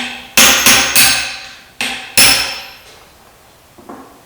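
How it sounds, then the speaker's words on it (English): Five sharp, loud hammer blows on a rifle part during assembly, in two uneven groups with ringing decay, followed by a faint tap; no talking. "Well, nothing to do but hammer."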